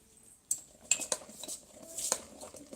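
A spoon stirring fermented rice and urad dal batter in a metal vessel, a few soft clinks and scrapes close by at low volume, without speech.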